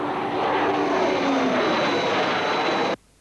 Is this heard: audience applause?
no